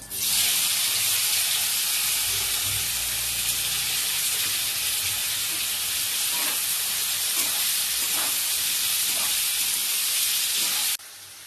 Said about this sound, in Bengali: এবার মশলাটা আমি ফ্রাই করে নেব। গোটা জিরে, কুচনো পেঁয়াজ দিয়ে দেবো,